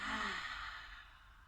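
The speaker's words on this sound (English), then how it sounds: "Take a deep breath in through the nose and out through the mouth." One deep breath in through the nose and out through the mouth during a yoga session, a single soft, airy sigh-like exhale that fades within a second and a half.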